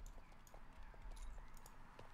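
An American Paint Horse in Star Stable walks with soft, steady clip-clopping hoofbeats in an even rhythm, quiet under a continuous game ambience.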